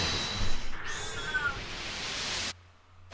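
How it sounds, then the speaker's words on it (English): Cat meowing in a drawn-out, close, fairly loud call that bends in pitch, then cuts off abruptly, leaving near silence. "Meow."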